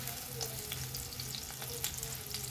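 Onion and garlic frying in a pan while being turned, soft continuous sizzle with intermittent scraping stir strokes, close but fairly quiet, no voices.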